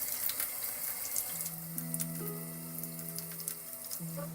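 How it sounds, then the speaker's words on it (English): Warm water runs from a tap over a steel blade as it is scrubbed with Dawn dish soap and a sponge, a steady close splashing hiss with a faint tonal hum underneath. "wash the blade off really well with Dawn dish soap and some warm water"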